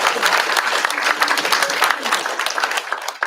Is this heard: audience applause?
yes